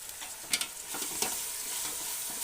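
Masala paste for mutton palav frying in a pot, a close, steady sizzle broken by a few scraping stirs, with no talk.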